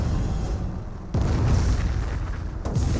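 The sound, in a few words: Nebelwerfer rocket artillery barrage exploding in Company of Heroes video game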